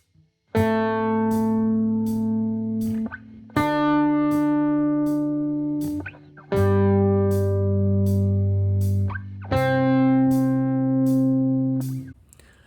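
An electric guitar plays the lowest note of a pentatonic shape on each downbeat at 80 BPM, four sustained clean notes ringing out one after another with short gaps, close and alone with no talking.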